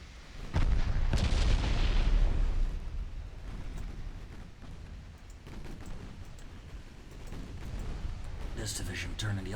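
Warship guns firing in the naval strategy game Ultimate Admiral Dreadnoughts, a heavy booming salvo followed by scattered distant thuds and rumbling, under a voice giving orders.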